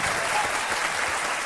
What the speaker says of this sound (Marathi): तर या टाळ्या वाजत राहिल्या पाहिजेत